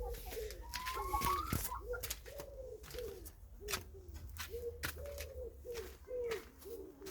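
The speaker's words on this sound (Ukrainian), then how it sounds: "О, чуєте? Курочки ось гуляють по подвір'ю." Soft repeated clucking and low cooing calls from chickens in a yard, a steady series of short murmurs with a few sharper outdoor knocks, moderately close.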